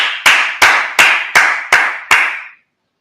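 Sharp percussive bursts repeat in a steady rhythm, six evenly spaced strikes over about two seconds, each decaying quickly before the next; rhythmic clapping from a congregation during a Sabbath service, loud and close, then it stops abruptly.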